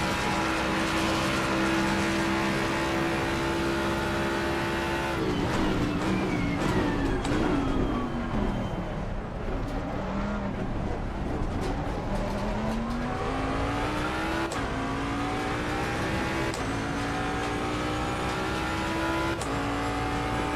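A Mustang GT3 race car in the racing game Assetto Corsa Competizione, at Monza or Misano, roars loudly and continuously, its engine pitch climbing and dropping through repeated gear shifts with no voices over it.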